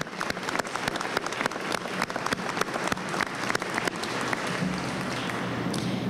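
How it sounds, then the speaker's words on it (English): Audience applause at a public pledge signing ceremony: many hands clap in a dense, even burst that gradually thins and fades toward the end. "Can we have a round of applause for the entire network of people working on this issue?"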